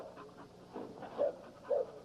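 A formidable dog with a pin in his leg and a bobtail pants quickly and softly at close range, with a couple of slightly louder breathy bursts.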